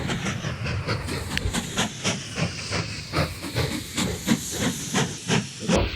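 Steam locomotive pulling into a station in the Mashinky train-building game, with a steady loud hiss of steam and a rhythmic clickety-clack of wheels pulsing throughout.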